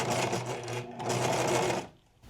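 Sewing machine stitching a collared top, a close, loud, steady motor whir with a rapid needle chatter that dips briefly, resumes, then stops near the end.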